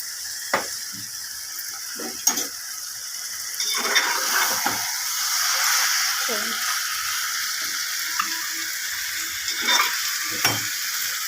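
Coconut powder frying on high heat in a pan, a continuous dry sizzle broken by repeated scrapes and clacks of a spoon stirring, close and fairly loud, with no talk.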